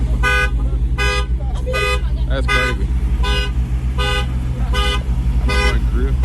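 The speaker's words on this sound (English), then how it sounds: "he set the truck alarm off" A truck alarm blares in a steady chain of evenly spaced horn toots at a crowded Atlanta car meet, loud and close over a rumbling idling engine, while a voice speaks briefly.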